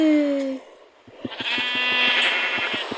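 A sheep bleats, a wavering nasal cry near the end, after a burst of rapid tapping and electronic tones in a video game; a short tone sweep opens.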